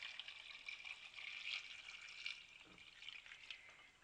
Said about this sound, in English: Add a water, which is your pint of water.